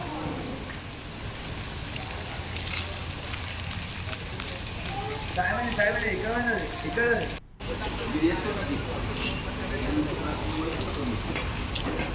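Heavy rain pouring down in flooded Sangareddy, a dense continuous hiss of rainfall with a brief dropout partway through, and voices talking faintly in the background.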